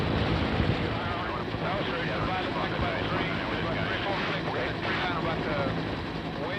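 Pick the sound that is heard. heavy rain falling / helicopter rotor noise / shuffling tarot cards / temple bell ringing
helicopter rotor noise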